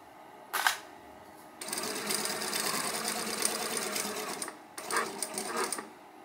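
A home sewing machine stitching fabric for a dog bandana, running in bursts: a short whir, then a long steady run of several seconds, a pause, and another brief run as it backstitches back and forth, fairly close.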